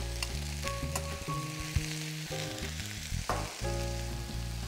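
Chopped baby bok choy and halved straw mushrooms frying in a pan of oil with a little sesame oil, giving a steady close sizzle under a bed of tonal background sounds, with brief clatters along the way.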